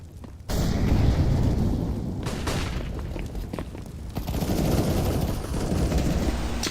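A grenade blows up in Counter-Strike: a sudden loud, booming blast that sets off a dense, rumbling wash of gunfire-like crackle, which keeps going at full strength for several seconds. No one speaks.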